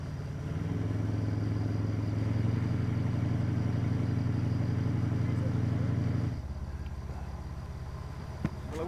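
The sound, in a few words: revving boat engine on the Mekong river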